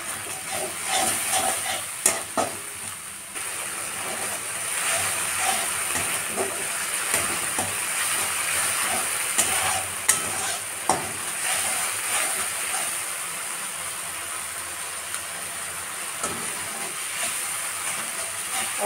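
A ground paste of cumin, garlic, ginger, green and dried chillies with salt and turmeric fried in a pan, a steady close hiss and sizzle with scattered stirring clatters.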